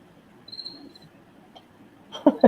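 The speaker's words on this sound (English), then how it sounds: "when I try to record something, I'm like, oh, there's crickets" A single cricket gives a brief faint chirp, followed by soft thumps and rustling handling noises that grow louder toward the end.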